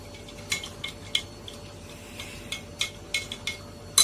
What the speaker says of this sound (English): Keep on adding a few teaspoonful of salt and keep stirring it